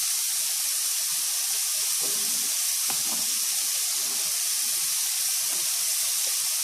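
Bell peppers sizzle in a hot pan with a steady, bright hiss, broken by a few soft clinks and stirring scrapes partway through, and no talking.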